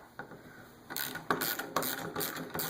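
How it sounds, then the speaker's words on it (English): Mechanical clicks and scraping creaks as the receiver of a CZ Redhead Deluxe shotgun is worked loose from its wood stock, a few close, fairly quiet bursts of rattling metal and wood. "push this receiver that little bit off of the wood stock"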